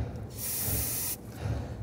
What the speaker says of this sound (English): We're going to use some spray solvent on a rag,